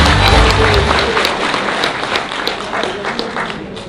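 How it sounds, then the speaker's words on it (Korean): A large audience applauds at a citizens' public lecture in a packed hall: a dense, continuous wash of many hands clapping, loudest at the start and easing slightly over four seconds, with a few scattered voices mixed in. "여러분 다시 한번 큰 박수 부탁드립니다."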